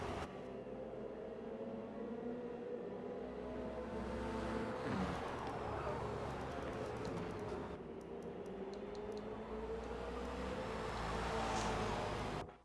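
Ferrari race cars in a sim racing game at Catalunya, with a steady engine roar that rises and falls through acceleration and braking, filling the whole stretch with no talking.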